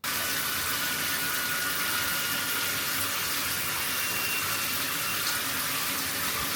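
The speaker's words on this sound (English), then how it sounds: "So I showed you a little clip there of the shower running" A hotel shower runs with a noisy pipe, a steady, loud hiss of spraying water filling the room, with a faint whistling tone from the plumbing running underneath it the whole time.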